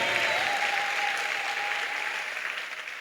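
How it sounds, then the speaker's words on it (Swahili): A church congregation claps steadily in dense, sustained applause, with a faint high sustained tone running through it that may be ululation; the crowd noise stays loud and even for the whole stretch. "Sema amina kwa makofi mazuri na vigelegele."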